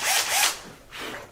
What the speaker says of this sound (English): And then I'm just gonna drill.